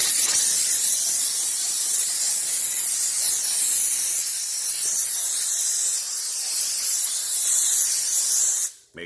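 Steam cleaner hissing steadily over clothing, a loud, continuous broadband spray that holds for about nine seconds before cutting off abruptly at the end.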